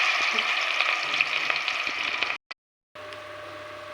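Ground spice mix sizzles steadily in hot oil in a kadai for an Andhra-style fish curry, with a stirring scrape now and then, then cuts to silence for a moment and comes back as a quieter sizzle with a low hum.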